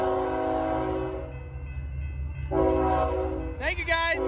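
A Norfolk Southern locomotive horn blares in loud chords, sustained at first, pausing briefly, then sounding again with a short burst at the end, over rumbling train noise close by.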